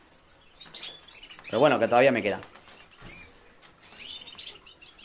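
Birds chirp and flutter in a breeder's aviary, a short burst of wing flapping and calls rising in the middle while someone talks quietly around it.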